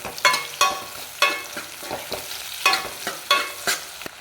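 Onions frying in oil for a plain parotta salna, stirred with a spatula that scrapes the pan in regular sharp strokes over a steady close sizzle.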